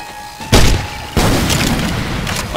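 Grenade launcher firing in Left 4 Dead 2, two loud booming blasts about half a second apart, each with a heavy low thud and a sustained rumbling tail.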